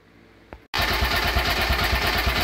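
A homemade high-compression engine running on woodgas from a DIY gasifier fires up after a short burst of cranking and settles into a loud, steady running beat with a fast, even rhythm.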